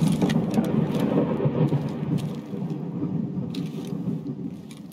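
In the game Escape from Tarkov, thunder rumbles through a rainy outdoor map, a steady low roar with the patter of rain layered over it and no voices.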